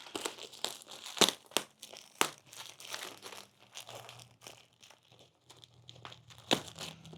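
Plastic packaging of a yarn parcel bound with sticky tape crinkles and tears open, with a steady run of crackling handling sounds and several sharper rips, close and fairly quiet, with no talking.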